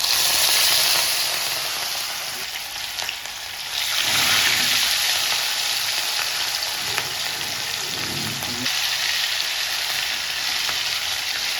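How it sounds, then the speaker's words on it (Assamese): Fish pieces sizzle steadily in hot oil for a fish kaliya, a dense continuous frying hiss that swells louder partway through as they settle into the pan, with no talking. "পুৰা গৰম হৈ গ'ল এতিয়া মাছ কেটা দি দিম"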